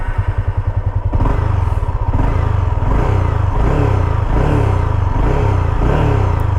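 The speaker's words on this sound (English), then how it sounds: "let's hear the exhaust note." Honda CB300F DLX Pro motorcycle exhaust, idling with a thumping beat and then revving in loud repeated bursts close to the mic, with no talk over it.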